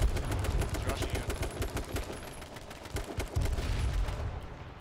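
Rapid automatic gunfire from a shooter video game fires in dense, overlapping bursts for several seconds, loud and continuous, before tailing off at the end.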